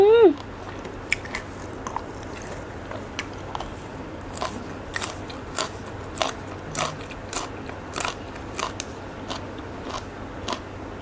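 Apple snails, also called cherry snails, being chewed and bitten with papaya salad, giving close, repeated wet crunches and clicks in an irregular rhythm.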